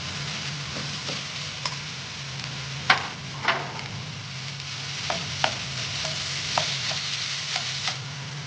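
Ground beef cooks in a pan for a vegetable lumpia filling, giving a steady low sizzle with scattered clicks and scrapes of stirring, some sharper taps standing out, close and fairly quiet.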